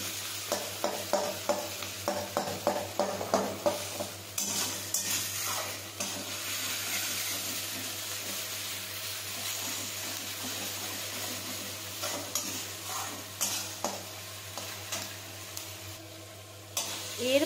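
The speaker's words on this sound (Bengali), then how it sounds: "তেলে দিয়ে কিছুক্ষণ ভাজি" Bay leaf, dried chilli and ginger-garlic paste frying in oil for a Bengali egg tarka, opening with a rhythmic run of spoon-stirring scrapes against the pan over a constant sizzle, then settling into softer frying with occasional stirs.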